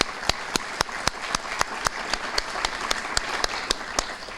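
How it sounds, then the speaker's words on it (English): A room full of people applauds a student named Tanisha at a high school community breakfast, with steady sharp claps ringing through a continuous bed of crowd clapping throughout. "I think we should give Tanisha another round of applause."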